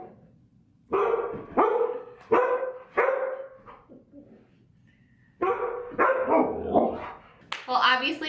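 A dog barks indoors in repeated sharp bursts, two clusters of several barks separated by a pause, close and fairly loud, with no talk over it.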